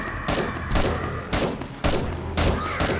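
Gunfire from the zombie survival game 7 Days to Die: six evenly spaced sharp shots, each with a short ringing tail, fired at a steady rhythm with no talk over them.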